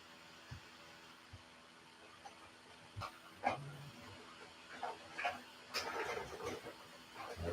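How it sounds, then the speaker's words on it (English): A dog wanders around inside a room, making scattered soft clicks, shuffles and light thumps that grow busier toward the end, with no talking. "My dog keep walking in."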